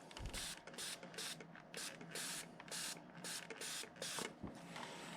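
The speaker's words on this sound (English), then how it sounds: "we're going to spray these trees a little bit more" An aerosol can sprays model railway trees dressed in conifer coarse turf. It gives about nine short, quiet hissing bursts in an uneven rhythm, close by, with no talking.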